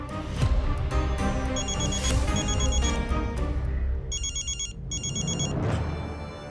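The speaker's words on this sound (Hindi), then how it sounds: "अरे फोन उठा।" A telephone bell rings in repeated electronic bursts over a busy background of music and noise, sounding fairly close.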